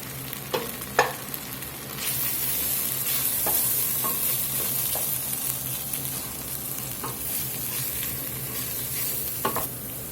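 Flour being stirred into hot oil in a pan while cooking a roux for Cajun gravy, a steady soft sizzle with occasional scraping clicks of the spoon, close and continuous with no talking.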